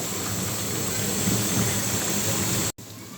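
Palm fruit fritters frying in oil, a dense continuous hiss and bubble close by that cuts off abruptly near the end.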